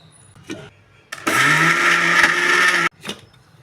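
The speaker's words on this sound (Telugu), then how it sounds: "ఇప్పుడు ఇది మొత్తం మిక్సీ వేసేసుకుందాం" A mixer grinder whirs loudly for about a second and a half, grinding black sesame seeds, palm jaggery and cardamom, with a brief click before it starts and another after it stops.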